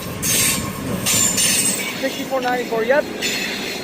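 A passing train rumbles and clatters close by, with rhythmic wheel noise and a high squeal of wheels on the rails, while a person speaks briefly under it.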